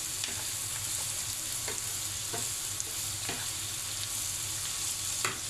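Green chillies frying in a pan, a soft steady sizzle with occasional light scrapes of stirring at intervals, no voices.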